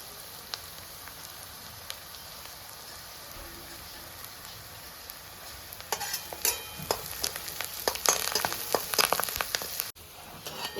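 Curry leaves dropped into hot oil for sooji upma, a quiet simmer that bursts into loud spitting crackles partway through, followed by scattered sharp pops up close.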